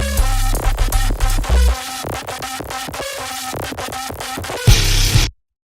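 A DOOM-style metal track reaches its drop section, with heavy distorted guitar chugs in tight rhythmic bursts, loud and dense, ending in a brief noisy swell before stopping abruptly.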